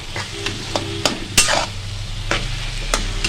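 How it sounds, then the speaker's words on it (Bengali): Roasted, peeled eggplant stirred into a fish-head mixture in a pan, with repeated scraping strokes of the spoon over a steady low sizzle, close and fairly loud. "এবার এই এটায় পোড়া বেগুনটা আমি দিয়ে দেবো দিয়ে ভালো করে নাড়বো"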